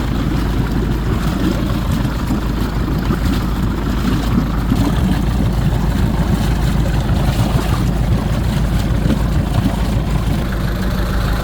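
Mercruiser 1.7L DTI diesel running on a Sea Ray 240 Sundancer boat, a steady, even rumbling drone that stays close and constant without a break.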